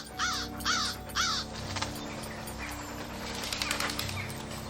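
A crow cawing in a radio drama, three loud harsh caws in quick succession near the start, then a quieter outdoor background with faint rustling.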